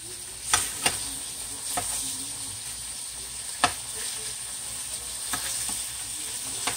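Quartered red potatoes sizzling steadily in a frying pan, a continuous close hiss broken by a few sharp clacks and taps of a utensil as pieces are flipped.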